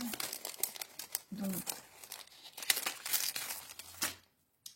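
Paper cut with a butterfly die handled up close, crisp crinkling and rustling throughout, heard under a person talking.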